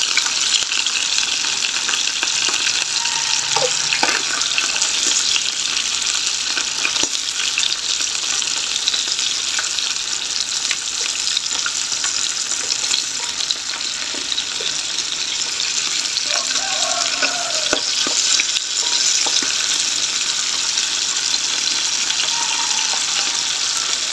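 Tuyo, dried fish, fries in a pan with a dense, continuous sizzle and crackle that holds steady, close up, with faint scattered clinks and a few quiet voices underneath.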